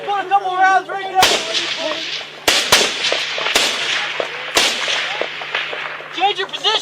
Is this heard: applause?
no